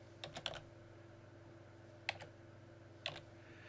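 Keys on a computer keyboard tap in a few short, sparse bursts with long gaps between them, quiet and close over a steady low electrical hum.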